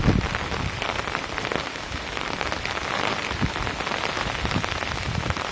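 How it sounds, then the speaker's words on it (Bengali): Heavy rain pours on surfaces during a rainstorm outdoors, a close, continuous hiss with scattered louder drops and no talk. "আয় বৃষ্টি পড়ছে, চলে চলে।"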